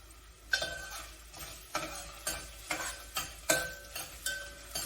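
Aromatics sweat in a pan for mussels tinola, with soft sizzling under a series of sharp, regular clicks and scrapes of a spoon stirring against the pan, fairly quiet and close.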